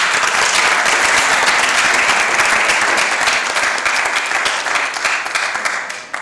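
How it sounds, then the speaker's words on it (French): Sustained audience applause at a youth advisory council session, loud, dense and steady throughout, fading slightly at the very end. "Sous vos applaudissements, s'il vous plaît."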